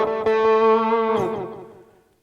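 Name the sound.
delay effect on LEKATO PA-1 guitar headphone amplifier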